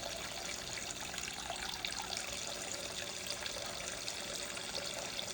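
Water runs steadily from a tap for a dog to drink, a continuous soft splashing trickle at low level with no talking.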